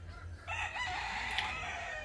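A rooster crows once, a drawn-out call heard at moderate distance over a low background rumble.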